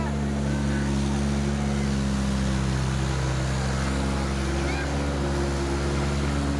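A tractor engine roars loud and unbroken at a tractor pulling contest, a dense low drone with steady harmonics and wind buffeting the microphone throughout.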